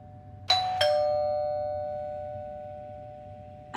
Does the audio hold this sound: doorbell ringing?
yes